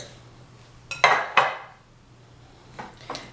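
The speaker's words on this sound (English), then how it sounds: "Then you're going to mix this around." Butter and shortening being worked into flour in a mixing bowl for cinnamon maple biscuits: a few sharp utensil knocks and scrapes against the bowl, two loud clatters close together, then softer scraping taps later.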